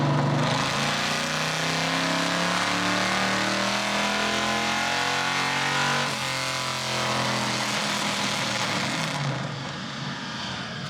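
A drift car engine held at high revs on a dyno at a car show, a loud sustained roaring drone with shifting tone that drops away near the end.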